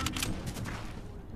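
Rapid burst of gunfire from a weapon in the video game Fortnite, several quick cracks packed into a dense volley at steady loudness, with game ambience underneath.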